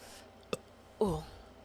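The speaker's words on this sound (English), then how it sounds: "I just burped into the mic" A single short burp lands close into a microphone, a brief low throaty croak following a small click, in an otherwise quiet room.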